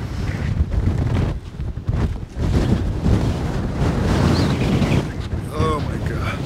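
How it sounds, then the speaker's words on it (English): Strong desert wind buffets the microphone in heavy, continuous roaring gusts at a van campsite, loud and close, with a person speaking briefly amid the blasts. "Definitely windy."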